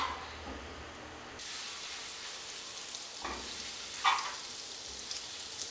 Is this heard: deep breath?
no